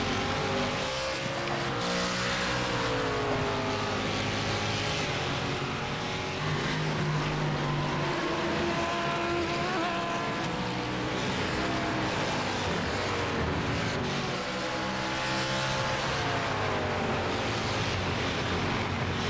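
GT race cars lap Donington Park National circuit, engines roaring steadily at high revs with rising and falling pitch as cars pass and shift, a continuous loud mechanical drone with no voices.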